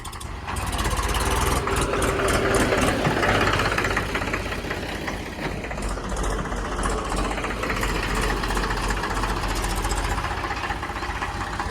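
Indo Farm tractor engine running hard while pulling a karah land leveler, a loud, steady diesel rumble with rhythmic knocking that continues throughout without pause.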